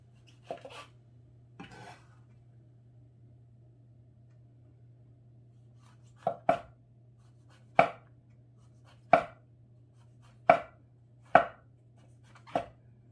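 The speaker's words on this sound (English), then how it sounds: "Let's try to just cut the caps off. And then I'll slice the stem into slices." A knife slicing through golden oyster mushroom stems, a series of separate crisp cuts against a board, spaced out with a faint steady hum behind.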